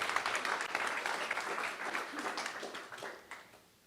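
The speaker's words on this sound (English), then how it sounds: "Yes, clap." Audience clapping at a professional services panel event on AI, a dense burst of applause that is loud at first and gradually thins and fades toward the end.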